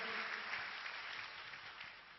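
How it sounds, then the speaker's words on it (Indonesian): Church congregation applauding during a Sunday worship service, a steady wash of many hands clapping at a moderate distance, sustained evenly for a couple of seconds without any speech. "Tepuk tangan meriah bagi Kristus Tuhan kita."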